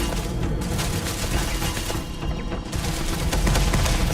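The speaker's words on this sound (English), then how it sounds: "Turrets are my greatest enemy in this game" Automated turret gunfire in the space game Starfield: a loud, continuous barrage of rapid shots with booming impacts, sustained for the whole stretch with no talking.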